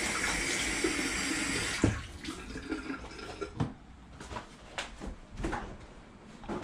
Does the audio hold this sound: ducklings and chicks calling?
no